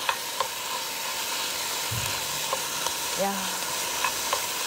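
Onion, seaweed and cabbage stir-fry in sesame oil with a steady close sizzle, a few utensil scrapes and clicks, and a short voice near the middle.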